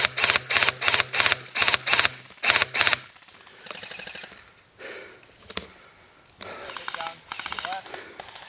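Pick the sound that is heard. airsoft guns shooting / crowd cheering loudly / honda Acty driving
airsoft guns shooting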